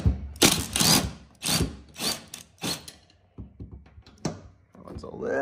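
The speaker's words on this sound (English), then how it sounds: "I'm gonna see if I can break them loose with the impact, the bottom" Pneumatic impact wrench bursts loosening the spindle bolts underneath a 60-inch BadBoy Maverick mower deck, several loud rattling hits in separate bursts, with someone talking between them.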